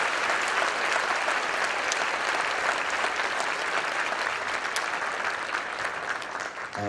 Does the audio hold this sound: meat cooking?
no